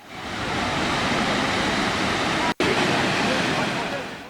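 Muradiye Waterfall crowded with holiday visitors, its steady rushing roar of falling water filling the scene loudly and continuously, broken by a brief cut near the middle.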